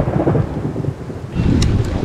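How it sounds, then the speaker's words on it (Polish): Heavy rain falls steadily outdoors during a thunderstorm in the Polish Jura, with a deep continuous rumble of thunder under a loud wash of rain. "Pada już teraz."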